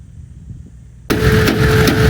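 An off-road car drives down a warm-up track, with a faint low engine murmur that jumps abruptly into a loud, close, raspy engine roar that holds steady.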